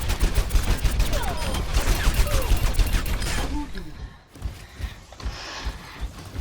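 D.Va's infinite-ammo guns firing in the Overwatch video game, a dense, loud stream of rapid shots that fills the first half and then thins out into scattered game effects.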